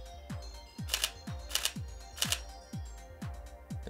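Shutter releases of a Sony A7R3 camera tethered by USB cable, about six crisp, close mechanical clicks in a steady, evenly spaced rhythm.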